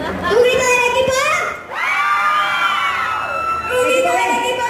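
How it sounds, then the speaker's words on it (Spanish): A youth group team yells together in a loud, sustained burst of mixed children's and teen voices, breaking briefly before a second swell of shouting and cheering. "Un grito del equipo A."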